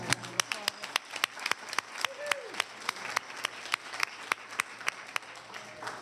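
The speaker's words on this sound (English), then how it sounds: "Would we like to give them a round of applause?" Scattered, fairly quiet clapping in a county board of commissioners meeting room: sharp individual claps at an uneven rhythm rather than a dense roar, with a faint voice and room murmur underneath.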